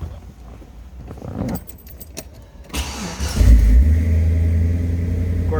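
A 1932 Ford Model B Roadster street rod with fuel injection starts up: keys jingle and click, the starter turns briefly, then the engine catches at once and settles into a loud, steady idle close by.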